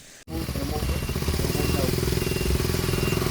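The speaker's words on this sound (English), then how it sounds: "that is what you can accomplish with a motorcycle engine when trying to build any sort of airplane" A motorcycle engine powering a homemade airplane runs with a loud, steady, rattling drone that builds after a brief pause, close and continuous, with a voice talking over it.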